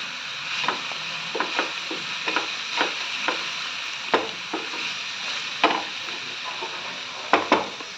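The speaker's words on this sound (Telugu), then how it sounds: "మొత్తము క్యాబేజీ, క్యాప్సికమ్, బీరకాయ ముక్కలు అన్నీ వేసి వేయించుతున్నాను." Pieces of cabbage, capsicum and ridge gourd fry in a pan with a steady soft sizzle, broken by regular clicks and scrapes of a spatula stirring them.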